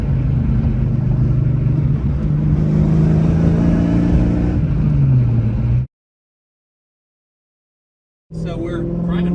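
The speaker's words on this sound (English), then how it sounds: "So we're driving Blake's car right now" Saleen sports car engine droning and pulling steadily while driving, loud and close inside the cabin, then cutting out to silence before resuming with a voice over the engine.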